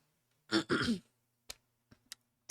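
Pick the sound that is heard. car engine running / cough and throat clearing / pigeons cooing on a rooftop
cough and throat clearing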